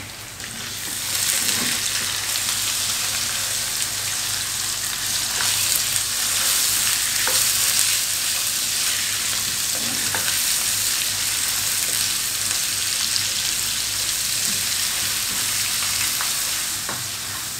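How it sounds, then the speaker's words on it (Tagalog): Ground beef sizzling loudly in a pan with garlic and onion for lumpia, a steady dense crackling hiss with occasional stirring scrapes, close and continuous throughout. "Lutuin lang natin na maigi itong karne."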